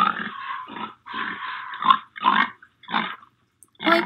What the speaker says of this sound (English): What animal goes oink oink? That's right, a pig.